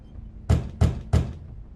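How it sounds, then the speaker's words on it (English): Three evenly spaced knocks on a door in The Wolf Among Us, sharp and close, each a firm thud landing about a third of a second apart over a quiet background. "How polite of you to knock."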